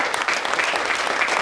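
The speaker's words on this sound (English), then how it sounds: "Let's clap for them, the ones who were here." An audience at a Black History program claps in a continuous, even wash of hand claps, moderately loud and without a break.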